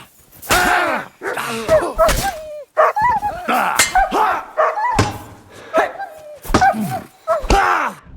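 A dog barks repeatedly in a Kingdom Come Deliverance 2 fight, loud close woofs in uneven bursts across the clip, mixed with thumps and a door-like slam.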